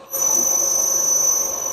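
A metal-cutting machine tool shifted into low gear for reaming runs with a steady whine and a sustained high-pitched squeal, close and constant after a brief start.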